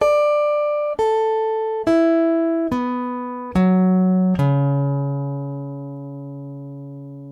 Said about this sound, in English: no compression, no extra energy added, just the natural sustain of the pickup